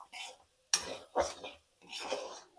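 Idli pieces with salt and chilli powder are mixed in a pan, making a few separate bursts of scraping and clinking from a spoon against metal against a quiet background.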